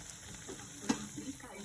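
Batter-coated aloo bread pakoda frying in hot oil, a soft steady sizzle with one faint splash or clink near the middle, quiet and close.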